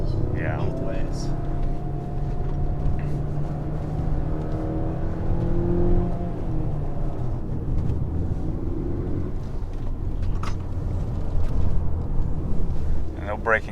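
A Ford Focus RS with four-wheel drive on a mountain drive, its engine droning steadily and rising as it pulls out of a bend under the throttle. People talk over the engine throughout.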